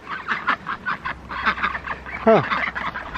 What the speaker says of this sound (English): the ducks are already making noise